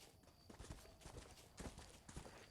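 Horse hooves clip-clopping in the video game Red Dead Redemption, a steady rhythmic trot of sharp hoof strikes on hard ground, faint overall with no talk over it.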